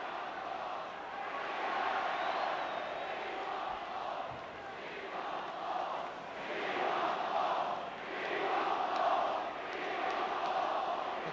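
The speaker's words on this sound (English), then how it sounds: "The crowd, who had 4 goals in each of the last 2 home games, chanting for 4 in this one" A large football crowd at Manchester City v Manchester United chants in rolling, swelling waves, a distant dense roar that rises and falls steadily with no close talk.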